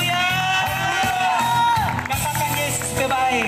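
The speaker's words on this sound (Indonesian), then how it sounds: "sorakan haleluya" A church congregation shouts and cheers together in loud, continuous collective hallelujahs, a dense crowd roar with whoops and raised voices rising and falling over several seconds.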